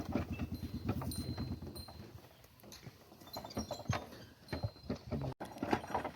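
Sturdy bullocks walk along, their hooves striking the ground in a quick run of close, rhythmic clip-clops that thin into scattered steps amid outdoor background noise.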